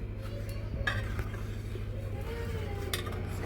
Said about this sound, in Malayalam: ഇടയ്ക്കിടയ്ക്ക് ഇളക്കി കൊടുക്കണം